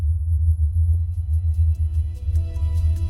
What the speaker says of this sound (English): This town in Northern Ireland can hear a constant humming noise